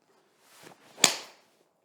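Nike Vapor Flex golf driver striking a ball, a single sharp, fairly faint crack preceded by the soft whoosh of the swing, heard alone.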